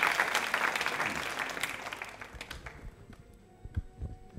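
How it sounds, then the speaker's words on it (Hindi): Loud audience applause at a quiz show, dense clapping that fades out over a few seconds into a quiet room with scattered taps. "तालियां जोरों से बजाइए आप इस जानकारी के लिए"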